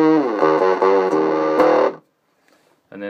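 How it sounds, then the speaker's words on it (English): Microsynth guitar pedal in octave fuzz mode: a buzzy, harmonically rich fuzzed guitar line of several quick notes, loud and close, then a brief silence before another note begins. "with the octave and the square wave mixed in, you can kind of get a nice sort of octave fuzz sound"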